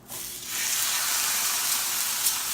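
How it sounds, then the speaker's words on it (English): A steak hits a pan heated over a high flame and breaks into a loud, steady sizzle that starts abruptly and carries on evenly to the end. "Alright, our pan's ready. Throwing the steak on."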